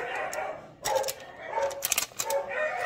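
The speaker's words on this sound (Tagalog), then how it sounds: "Ano kayong tinatahulan ng mga doggies?" Stray neighbourhood dogs bark and yelp faintly in short bursts at a distance, with people talking nearby.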